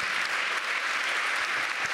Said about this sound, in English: Je crois qu'on peut déjà vous applaudir